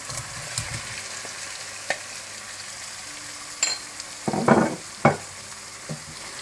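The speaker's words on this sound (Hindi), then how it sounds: "टमाटर को भूनने के बाद आप इसमें गोश्त मिला लें।" Mutton fried with tomatoes for dhaba-style palak gosht hisses softly under an irregular run of scrapes and knocks from a spoon stirring in the pot, a louder cluster coming near the end, close with no speech.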